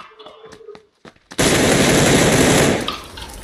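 Gunfire in a video game: a few short separate shots, then a loud, dense, sustained burst of rapid automatic fire that lasts over a second before tailing off, heard close up.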